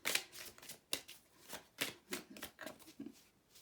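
Oracle cards being shuffled by hand, a quiet run of soft riffling and flicking bursts at an uneven rhythm, close up and alone.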